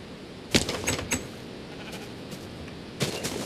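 Sheep in Minecraft bleat in a few short bursts: one near the start, another a moment later, and a third toward the end, heard faintly over a quiet background.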